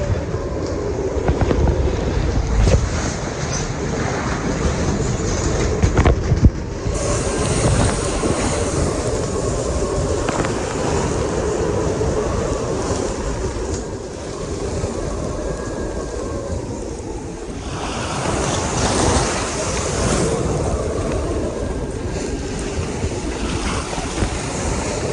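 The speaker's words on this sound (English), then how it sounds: "she's just rolling over the top of these breaking waves" A sailboat rolls over breaking ocean waves in a storm with 60-knot winds and 6-metre seas on the way to Australia, with a loud continuous roar of wind and crashing surf and heavy rushing surges.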